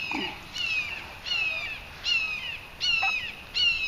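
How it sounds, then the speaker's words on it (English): A hawk screams high overhead in the woods: five repeated, descending, piercing calls at an even rhythm, distant and clear, with no talking. "Got a hawk way up there."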